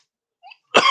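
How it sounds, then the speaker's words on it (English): A single sharp, close cough bursts out after a brief faint throat sound in an otherwise silent moment. "Sorry, I just paused to cough."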